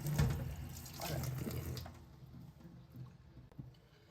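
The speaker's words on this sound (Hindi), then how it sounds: "पानी इसका बहुत ज़्यादा गर्म हो रहा है तो हम ये पानी फेंक देंगे और इसके अंदर हम दोबारा पानी डाल देंगे" Water poured out of a pot and refilled during cooking at home, a close splashing gush that loudest early, then trailing into softer trickles and drips.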